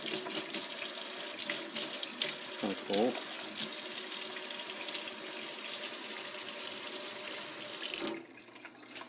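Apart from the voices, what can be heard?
running water from a tap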